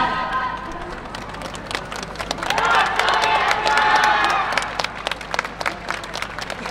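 Audience clapping at a university dance festival in Machida as a Tokai University yosakoi team prepares to perform. Scattered, sharp claps come over crowd murmur, swelling in the middle with voices mixed in.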